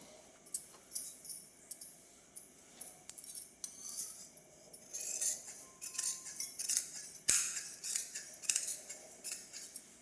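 Scissors snip through blouse fabric on a cutting table in a series of crisp, close, irregular cuts, some rapid, some spaced apart, with no talking.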